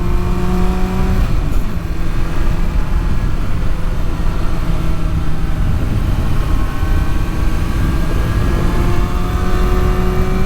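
A 2023 Kawasaki Ninja ZX-6R ridden along a twisty backroad, its engine a loud, continuous close drone with steady harmonic tones that rise and fall as the throttle changes, under strong wind rush.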